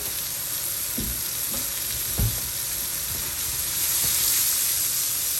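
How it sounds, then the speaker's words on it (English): Aromatics sautéing in oil for Guyanese-style shrimp fried rice, a steady close sizzle with a few soft stirring knocks and scrapes, no voices. "You want to saute up everything nicely. Let it caramelize nice."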